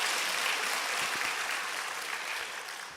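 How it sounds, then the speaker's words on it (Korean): A church congregation claps for the choir after a worship song, a steady wash of applause of moderate loudness that fades slightly over its three seconds. "다시 한번 이렇게 그 영광의 박수 올려드립니다."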